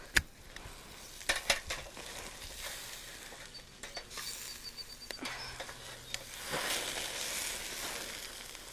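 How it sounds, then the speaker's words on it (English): Burgers sizzle in a pan while a spatula scrapes and clanks as they are flipped, giving a continuous close hiss with a few sharp metallic knocks. "our burgers have been cooking for 5 minutes on each side, and you're gonna get them and flip them over"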